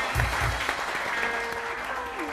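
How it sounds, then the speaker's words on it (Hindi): Audience applause at a live show, loud and close, with a few sharp claps standing out at the start, then steady clapping while a voice speaks over it. "बहुत सारी तालियां।"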